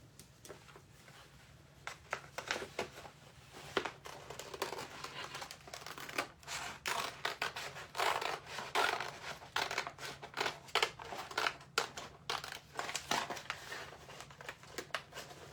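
Scissors snip through a flower-design transfer sheet, producing a steady run of crisp, close cuts and papery crinkles with short pauses, fairly quiet and with no talking.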